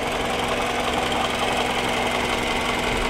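A 2005 Toyota Alphard with a 2.4 engine idles nearby, a loud, even mechanical hum with a ticking knock that holds steady throughout.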